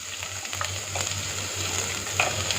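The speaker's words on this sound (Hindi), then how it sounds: "1 टीस्पून अदरक डाल के लाइट पिंक होने तक इसको फ्राई करेंगे" Ginger and medium onion fry in hot oil, a close steady sizzle with occasional stirring scrapes and light pops, continuous and unaccompanied by talk.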